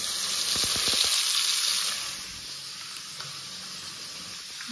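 Seeds frying in a pan with turmeric, a loud steady sizzle and hiss up close that eases to a quieter crackle after a couple of seconds, with no talk.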